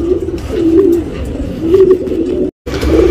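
A heavy Lal Kat Makshi tournament pigeon from Bangalore coos loudly and close by, repeating soft, throaty rolling calls in a steady rhythm with a brief break near the end.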